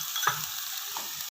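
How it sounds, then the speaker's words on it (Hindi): Ginger garlic paste and green chilies frying in oil for chana salan, a short burst of steady close sizzling with a couple of light stirring clicks. "अब इसमें हम ऐड करते हैं अदरक और लहसुन का पेस्ट और हरी मिर्च। इसको हम 2 मिनट के लिए फ्राई करेंगे"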